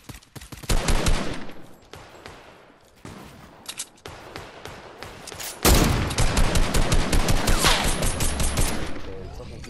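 Rapid automatic gunfire in the video game Fortnite, loud bursts of dense shots broken by short pauses and then a long sustained volley, with players talking faintly underneath.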